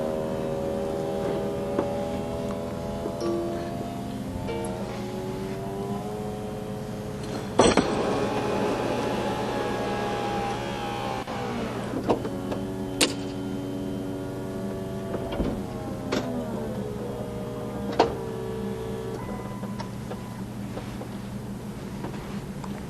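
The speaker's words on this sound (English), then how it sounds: "We're going to go ahead and cycle the roof up" A 2008 Chrysler Sebring convertible's power roof motors whine steadily with shifting tones as the top cycles up, with sharp mechanical clicks and clunks from the folding mechanism along the way.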